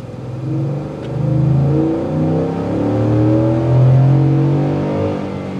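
A 2022 Ford F-150 Lariat's 5.0 Coyote V8 engine rises and falls in pitch as it accelerates, a loud, close throaty roar with no voices.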